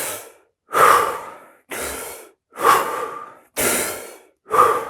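Wim Hof method breathing: six deep, forceful breaths close to the microphone, alternating sharp inhales and long exhales in a steady rhythm, with brief silences between.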